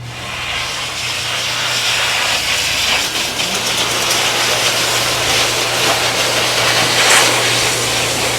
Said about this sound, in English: Dryers are a little loud.